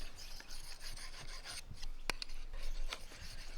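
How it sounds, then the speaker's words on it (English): A knife edge is drawn across the finer side of a sharpening stone, giving a steady rasping scrape in repeated close strokes with short pauses between them. "polish the edge with this side of the stone in exactly the same way"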